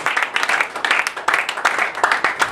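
Church congregation applauding during a French-language worship service, steady rhythmic clapping filling the room with a few voices mixed in.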